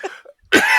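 A single sharp cough bursts out near the end, preceded by a faint breathy vocal sound and a brief silence.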